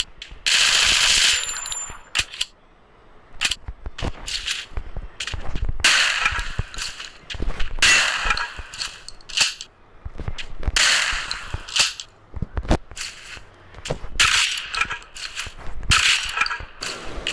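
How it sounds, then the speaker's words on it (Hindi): MP40 submachine gun fire in the mobile shooter Free Fire MAX comes in many rapid, sharp bursts of loud cracking shots, separated by short pauses and mechanical clicks. "चलिए MP40 में भी बड़े मज़े आ रहे हैं, अच्छे हैं साउंड"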